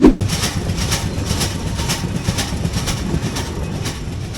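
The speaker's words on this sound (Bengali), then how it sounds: "শীতের সকালে ছুটছে ট্রেন" A train rolls along steadily from Dhaka toward Faridpur, Bangladesh, on a winter morning, with a continuous rumble and faint rhythmic clatter, close and moderately loud, with no voices.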